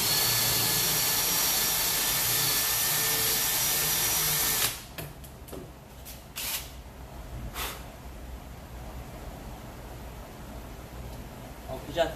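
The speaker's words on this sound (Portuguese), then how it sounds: "só ir furando os arrebites," A power drill drilling out rivets on a Kawasaki SXR 1100 jet ski whines loudly and continuously for about five seconds, then stops, followed by scattered clicks and knocks from metal pieces being handled.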